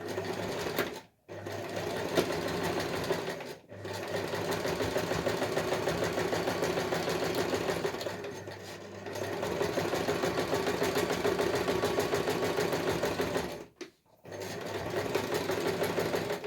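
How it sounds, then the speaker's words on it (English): A sewing machine runs straight stitches on a quilted hot water bottle cover, a close, steady rapid mechanical chatter in long runs broken by brief pauses. "Just going to move back and do some straight stitches there"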